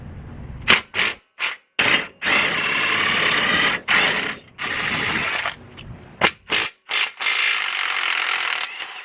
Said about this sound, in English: we're gonna put our impact gun or our impact wrench on this side